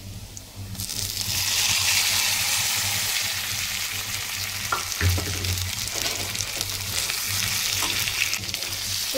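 Chicken breast pieces frying in a pan with onion, garlic and small diced potatoes, a loud, continuous close-up sizzle with a brief scrape or clatter midway.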